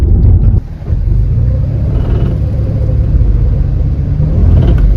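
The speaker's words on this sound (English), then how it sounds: "Do you hear that whining when I go slowing down, when it's downshifting and slowing down? I think that's the transmission pump." Car transmission pump whining as the car downshifts and slows, a loud continuous low rumble of engine and road noise with a steady drone throughout, heard from inside the vehicle.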